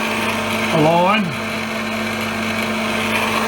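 Drill boring a hole in a steel lever yoke for a 3-ton ratcheting lever, short pecking strokes: a steady high motor whine with a brief rising-and-falling tonal sweep near the start, under a few spoken words.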